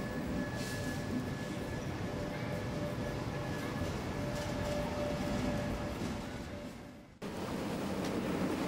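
A German double-decker EuroCity passenger train rumbles steadily along the tracks, a continuous low roar with a faint tonal whine, briefly dipping before resuming.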